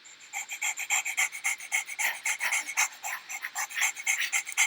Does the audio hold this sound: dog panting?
yes